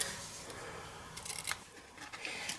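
Scissors snip through ribbon while a bespoke gift box for wine and chocolate is being wrapped, giving a few quiet, close crisp cuts and rustles.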